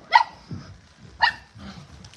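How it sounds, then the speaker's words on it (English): Playful puppies at a dog shelter give two sharp, high barks about a second apart, each followed by softer yips and whimpers, close and clear. "From the window you see the puppies playing."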